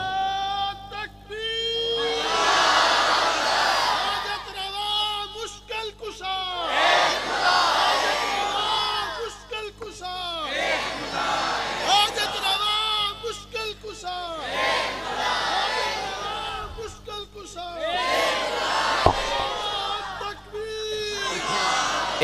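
A large crowd shouts a religious slogan in unison, answering a leader's call; loud, repeated waves of massed voices and cheering rise and fall at a late-night gathering in Shorkot.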